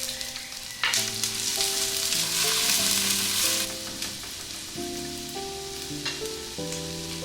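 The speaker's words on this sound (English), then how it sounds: "I sauteed onions in this hot oil." Onions sautéing in hot coconut oil on a home kitchen stove, a steady loud sizzle and crackle throughout, with a sharp surge in frying noise near the start and no talking, under soft background music.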